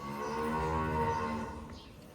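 A Simmental calf gives one long, drawn-out moo of about a second and a half, close by and loud, with a steady outdoor background hum.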